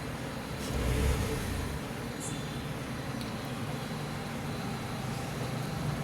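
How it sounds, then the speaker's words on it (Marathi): A 2024 Tata Punch with a fitted CNG kit and manual transmission runs on CNG, its engine idling steadily at close range after a brief rise in revs near the start, with no talk over it. "ही गाडी CNGवरती शिफ्ट झालेली आहे."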